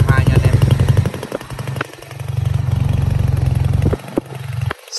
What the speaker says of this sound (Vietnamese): Dòng xe CB nổ máy nghe rất là hay nha anh em.